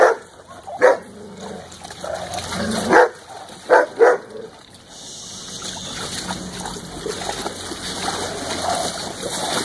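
A dog barks several times in a small room, loud sharp barks spaced over the first few seconds, followed by splashing and trickling water noise.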